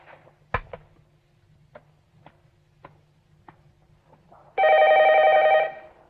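A telephone rings once in a quiet room, one loud, steady electronic burst of about a second near the end, preceded by a series of soft, evenly spaced clicks like a number being dialed; no one speaks.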